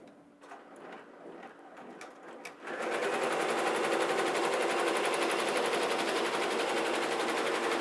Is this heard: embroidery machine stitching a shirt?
yes